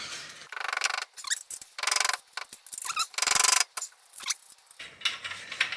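A ratchet wrench works loose 16 mm bolts on a Volkswagen MQB wheel bearing assembly, giving several loud bursts of rapid clicking separated by short pauses, close and alone.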